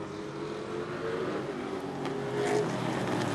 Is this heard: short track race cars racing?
yes